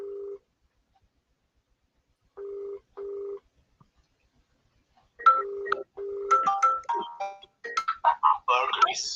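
Telephone dialing tones in short steady bursts, followed by a ringing pattern and then a voice on the line, all fairly clear and close.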